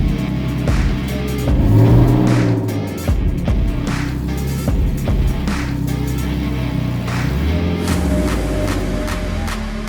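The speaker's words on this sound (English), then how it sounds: "Let's get the car on the lift." A Nissan 370Z moving slowly in a workshop as it is driven onto a two-post lift, its engine idling and revving steadily and loudly throughout, with no talking.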